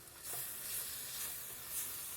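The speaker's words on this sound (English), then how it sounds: "Listen to that sizzle." Food sizzles steadily in a hot pan as it is stirred on a home stovetop, a continuous bright hiss with small swells of crackle throughout, close and moderately loud with no talking.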